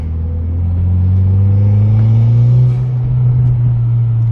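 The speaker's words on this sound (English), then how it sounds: "He heard that blow off valve." Mitsubishi Evo X with a turbo, engine revving and rumbling loudly up close in a steady, sustained drone, with the pitch slowly rising; no distinct blow-off valve release stands out.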